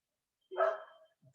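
A dog gives a single loud, close bark in the evening, sharp and brief, followed by a faint short yelp or whine just after.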